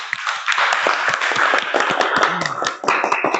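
A classroom group claps in a quick, uneven burst of applause lasting a few seconds, close and lively, with a voice briefly audible underneath.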